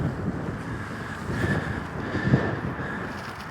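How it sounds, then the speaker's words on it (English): Steady wind buffets the microphone in a Victorian cemetery, the Glasgow Necropolis, a continuous low roaring rush with gentle swells and no voices. "And the wind."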